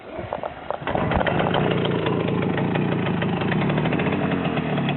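A Romet motorcycle engine idles, then is throttled up and held at a steady, buzzing mid-pitched drone during a first riding lesson, loud and close throughout.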